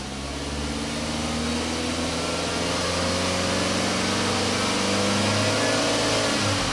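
A 2003 Nissan Altima engine held at a steady, smooth rise in throttle, a continuous loud drone with gradually climbing pitch and no voices.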